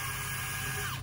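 A drill whirs steadily for about a second, pre-drilling a small hole to mount an RV backup camera bracket, fairly quiet and alone.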